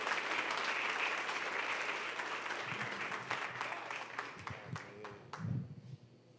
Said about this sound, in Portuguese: use suas mãos e dê um aplauso a Ele